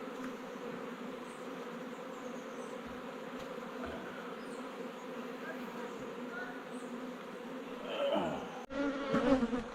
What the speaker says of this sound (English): there's just a lot of bees here